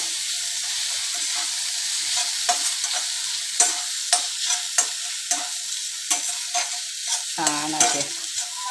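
Jowar flour noodles are stirred and tossed in a frying pan, a steady sizzle with irregular scraping and clinking strokes throughout, close and moderately loud, with no voices.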